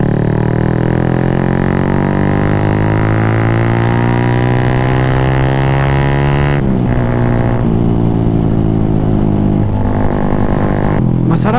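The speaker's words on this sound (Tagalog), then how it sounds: "yung tinitesting natin yung motor. Gamit natin ngayong ECU, yung stock na ECU, tapos open pipe." A motorcycle engine on a stock ECU with an open pipe runs loud and close, its revs climbing steadily, dropping back sharply, then holding a raw, droning note.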